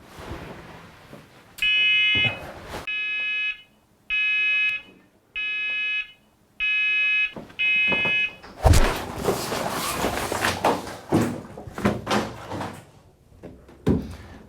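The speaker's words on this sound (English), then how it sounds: "let's be afraid that I oversleep my alarm. There's no snooze button." Six short, loud electronic alarm beeps repeat in a steady rhythm aboard a sailing boat, then clattering knocks and rustling movement take over.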